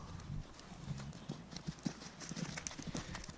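Horses playing outdoors, their hooves clip-clopping in an irregular run of close, dull thuds, with faint background noise.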